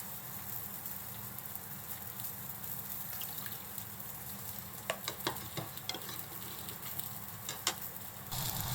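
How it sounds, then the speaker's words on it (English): Tofu steaks fry over medium heat in a pan, giving a steady bright sizzle with scattered sharp crackles and pops toward the end, close and alone with no talk. "fry the tofu until it's golden brown on both sides"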